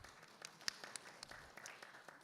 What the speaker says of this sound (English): Let's give them a big round of applause for their thoughts